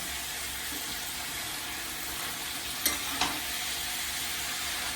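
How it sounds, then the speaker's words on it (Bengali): Malabar spinach fries in a pan with a constant, dense sizzle close up, broken by two quick utensil clinks near the middle and no talking. "দিয়ে ভালো করে নেড়ে চেড়ে পুঁই শাকটা ঢাকা দিয়ে দেবো"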